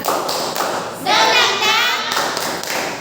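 A class of children doing a rhythmic clapping chant together, with steady group claps and thumps over overlapping young voices chanting.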